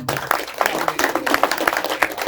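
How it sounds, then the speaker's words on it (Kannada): A scattered round of hand clapping from a small crowd at a film press meet, irregular claps continuing steadily at moderate loudness. "ಜೋರಾದ ಚಪ್ಪಾಳೆ ಬರ್ಲಿ"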